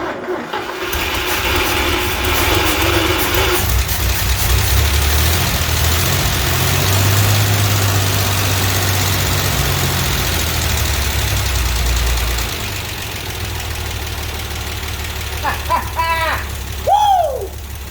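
A 1963 GMC K1000 4x4 truck engine just revived from a barn, running loud and close at a rough, steady idle with some knock, a voice speaking over it near the end.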